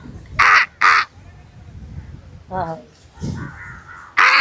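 Crows cawing from a small group of three perched together in Mumbai, sharp harsh calls in two quick bursts, then more caws spaced apart, with brief laughter and talk between them.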